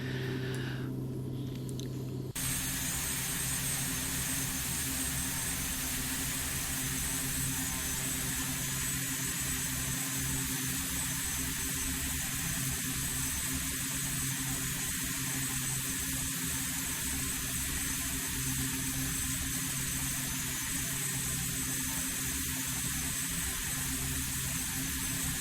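Steady, continuous roar of an airliner's jet engines climbing past 10,000 feet toward cruising altitude in a flight simulator, a broad even drone held at constant loudness throughout with no talking.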